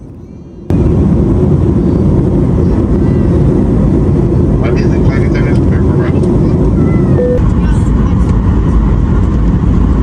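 Steady loud airliner cabin roar aboard a jet on a roughly five-hour Toronto to Los Angeles flight, a broad constant drone that starts abruptly and runs throughout, with faint voices and small clinks over it.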